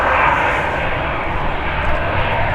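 A Lufthansa airliner at Manchester Airport roars steadily and loudly throughout, a broad, continuous engine rumble with no voices over it.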